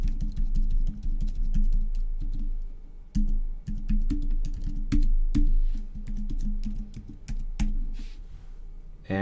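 Fast, steady typing on a computer keyboard entering credit card details, a dense run of close, crisp key clicks and thumps with no talking.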